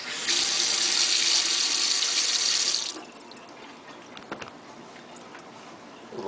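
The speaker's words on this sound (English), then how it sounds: "Check out how buttery this faucet works." Kitchen faucet at home running a strong, hissing stream of water for about three seconds, then shutting off, leaving faint clinks and quiet room tone.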